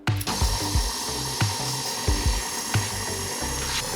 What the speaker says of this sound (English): Our mixer on